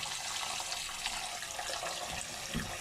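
Raw chicken rinsed under a running kitchen tap for a Jamaican-style oven roast, a steady close hiss of flowing water with light splashes throughout, no talking.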